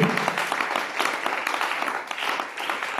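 A church congregation applauds to acclaim the Lord, a dense, continuous wash of many hands clapping at steady loudness, with no talk over it.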